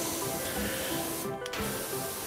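Pressure washer jet spraying in the Powerwash Simulator video game, a steady loud hiss running through the whole stretch with a brief dip near the middle.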